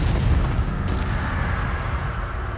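The Confringo blasting spell erupts in Hogwarts Legacy, a loud deep boom with a rumbling explosive tail filling the whole short moment, no voices.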